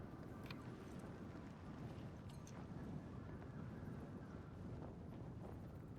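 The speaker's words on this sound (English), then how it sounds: "Tractor. I'm going to start this one." A tractor's engine starts up and runs in the factory-building game Satisfactory, giving a steady, fairly quiet, low broadband rumble that holds evenly for about six seconds with no talking over it.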